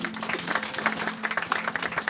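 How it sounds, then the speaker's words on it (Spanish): A church congregation applauds, a crowd of hands clapping at a moderate level with irregular, slightly uneven bursts and a faint low hum underneath, continuing steadily for the whole stretch. "Denle un aplauso a la palabra."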